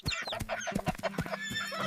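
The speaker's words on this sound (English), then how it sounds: "H is for horse." Horse neighing in a children's alphabet song, heard as short whinnying calls over bright sung music, blended with clucking-like farm animal sounds throughout.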